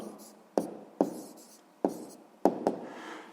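Pen writing a maths answer on paper by hand, heard as five crisp taps of the tip striking the page, each trailing into brief scratching strokes, close and clear, with no talking.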